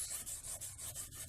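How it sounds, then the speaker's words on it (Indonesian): Sandpaper rubbed by hand over a forged metal blade to smooth away file marks, a steady rhythmic scratching in repeated strokes about every 0.2 seconds, close and clear with no voices. "Jadi ini amplasnya untuk menghilangkan bekas kikisan kikir ya."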